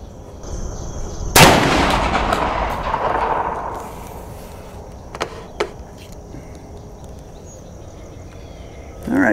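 Franchi SPAS-12 shotgun fired outdoors: one loud, close blast rings out with a long decaying echo, followed seconds later by two quicker, sharper reports.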